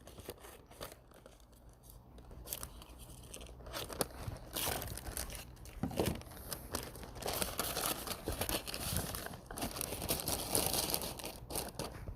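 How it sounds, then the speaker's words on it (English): Scissors snip and crinkle through a sheet of baking paper, trimming the end to fit a box, with crisp crunching cuts and rustling repeating across the whole stretch, close and fairly quiet, with no voices. "I'm going to take my scissors and I'm going to cut a bit off the end"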